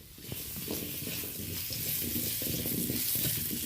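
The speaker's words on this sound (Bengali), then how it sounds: "মাছ ভাজার পরে কড়াইতে অল্প তেল ছিল, ওতে আমি আলুটা ভেজে নেওয়ার জন্য তুলে দিলাম।" Potatoes frying in a wok in the little oil left over from frying katla fish, giving a steady, close sizzle with scattered stirring scrapes throughout.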